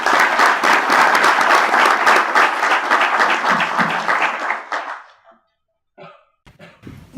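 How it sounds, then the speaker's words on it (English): A tech talk audience gives dense, loud applause for a speaker for about five seconds before it tapers off into near silence, followed by a few faint bumps and handling noises. "So round of applause for Olivier,"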